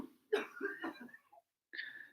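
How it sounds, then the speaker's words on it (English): A couple of harsh coughs close to the microphone, followed after a short pause by a raspy throat-clearing sound. "Nice pleasant outside coughing."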